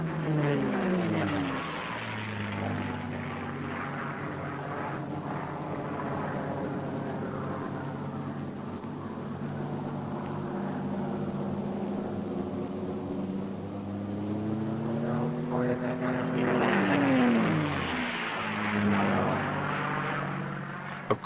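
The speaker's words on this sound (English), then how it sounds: "Here's a climbing roll." A propeller airplane performs an aerobatic climbing roll, its engine droning steadily throughout, with the pitch bending and the sound swelling louder toward the end of the manoeuvre.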